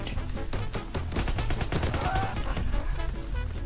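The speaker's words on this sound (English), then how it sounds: "Shooting through walls." Gunfire in the World War II shooter Call of Duty: WWII, rounds fired through walls in a dense run of rapid shots with a steady low rumble beneath, loud and continuous throughout.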